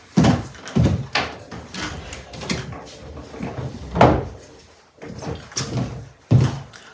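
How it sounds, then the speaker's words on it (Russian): A man repairs a broken apartment door whose lock had jammed shut, giving irregular knocks, bangs and creaks in scattered bursts at close range. "Там у нас мужчина делает дверь."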